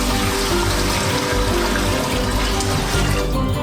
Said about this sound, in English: pour in 5 liters of water.